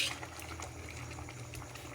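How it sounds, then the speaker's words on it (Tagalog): Inabraw, a provincial Filipino vegetable stew, simmers in a covered pot, giving off a faint, steady bubbling and gurgling hiss over two seconds with no voices. "Kumukulo na po siya."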